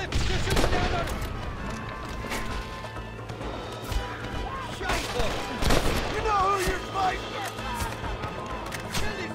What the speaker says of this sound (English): Watch the top of that cliff! They're shooting down on us!